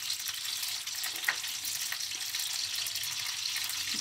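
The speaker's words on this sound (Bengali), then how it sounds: "এদিকে আমি ডিমটা ভাজবো" Boiled eggs sizzle in a pan with oil while being fried for a green cauliflower egg curry: a steady, close hiss of frying with one brief clink partway through.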